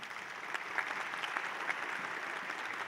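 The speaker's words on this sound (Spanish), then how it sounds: "para quien pido un aplauso" Audience at an academic talk applauds an award-winning public health researcher with a brief, faint, steady patter of clapping.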